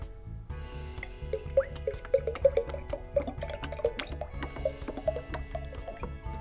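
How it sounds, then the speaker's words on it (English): Vegetable oil pours into red water in a jar, making a close series of gurgling drips and glugs in an irregular rhythm over a low background hum. "Next, I'm going to add in some vegetable oil."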